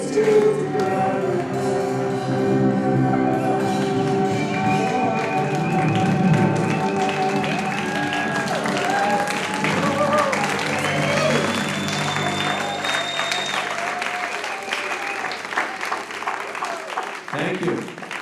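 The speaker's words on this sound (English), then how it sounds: "You get people to stand up and clap, and you have a standing ovation every time" Congregation at a Sunday celebration service rising for a standing ovation, loud sustained clapping and cheering throughout, with musical tones and voices mixed in before tapering off at the end.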